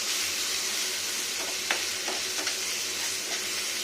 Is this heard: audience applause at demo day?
no